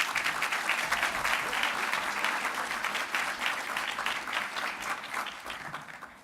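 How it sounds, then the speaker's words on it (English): A room full of people applauds warmly, dense clapping that holds steady and then gradually tapers off toward the end. "Please give a warm round of applause for her."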